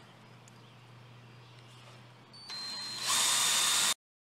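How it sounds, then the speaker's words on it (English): A drill works holes into a karambit knife blank: after a faint steady hum, a brief motor whine rises and grows loud for about a second before cutting off abruptly. "I'm going to get as big as I can with the drill bits and then probably wall it out and use a Dremel to do the rest"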